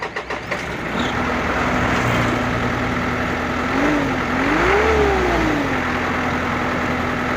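An Isuzu 4HL1 engine runs steadily in a truck under test, a loud, continuous close-up drone that rises briefly in pitch as it is revved mid-clip and then settles back to idle.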